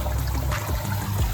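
Water trickles and splashes down a homemade waterfall spillway feature, a close, continuous burbling stream with small uneven gurgles and no voices.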